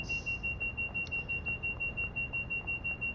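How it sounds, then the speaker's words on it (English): In Train Sim World 6, a train alarm sounds as a continuous high-pitched electronic beeping tone, steady and moderately loud beneath faint background rumble, with no voices. "Sorry about the beeping."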